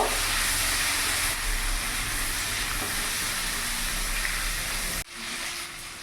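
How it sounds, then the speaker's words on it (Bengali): Cut vegetables for a vegetarian khichuri frying in hot oil, giving a dense, steady sizzle and hiss up close that drops off abruptly near the end. "সবজিগুলো এখানে আমি হালকা ভেজে নিয়েছি"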